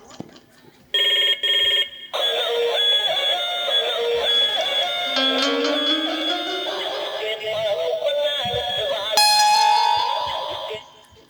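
An iPhone call rings out as a loud, repeating electronic telephone ring, starting in short bursts and then running as a steady tone, with a voice talking faintly underneath.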